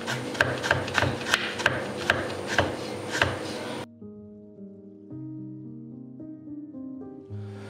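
A knife chops ginger on a cutting board in about eight crisp, evenly spaced strikes, close and clear, then the chopping stops and soft music plays.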